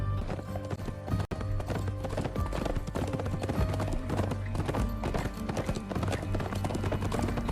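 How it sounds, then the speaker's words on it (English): Horses trot in a Western television show, hooves clip-clopping in a steady, loud, continuous rhythm for the whole stretch. "Oh, there's even one with a painted horse."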